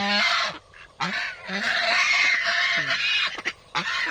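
Farm ducks on a Thai mango plot let in to forage, quacking loudly in several bursts of honking calls close by, with short pauses between, no talk.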